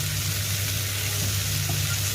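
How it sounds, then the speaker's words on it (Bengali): Vegetable curry with turmeric fries in a pan with a dense, steady sizzle and a low, constant hum underneath, heard briefly and without talk. "দিয়ে আমার অনেকটা ভাজা হয়ে গেছে তরকারি"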